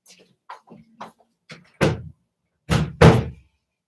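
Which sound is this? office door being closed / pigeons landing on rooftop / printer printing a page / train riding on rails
office door being closed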